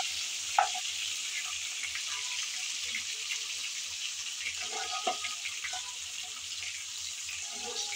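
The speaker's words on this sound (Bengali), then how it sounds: "নেড়ে চেড়ে কিছুক্ষণ ভেজে নিলাম।" Cauliflower florets fry in hot oil while being turned, producing a soft, continuous hiss with scattered crackles and a few spatula scrapes and taps, fairly quiet and steady throughout.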